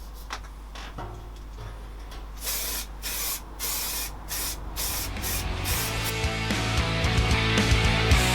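A spray gun lays base coat onto a Honda CB250 scrambler fuel tank during a refurb, close and steady, in repeated hissing bursts that grow longer and denser toward the end, with a low hum underneath.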